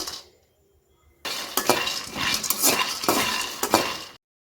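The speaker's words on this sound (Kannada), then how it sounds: "ಮೊದಲಿಗೆ ಇವಾಗ ನಾನು ಕಡಲೆಬೀಜ ಹುರ್ಕೊತೀನಿ. ಇದು ಏನಿದ್ರು ಲೋ ಫ್ಲೇಮಲ್ಲಿ ನೀಟಾಗಿ ಹುರ್ಕೋಬೇಕು." Peanuts being roasted in a pan over a low flame are stirred with a utensil, giving rapid scraping and rattling with clinks of metal, close and fairly loud after a quiet start, ending abruptly.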